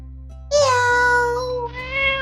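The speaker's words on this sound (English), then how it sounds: "Meow, meow, meow, meow." A cat gives a long, drawn-out meow followed by a second rising meow, loud and close, with a low musical hum beneath.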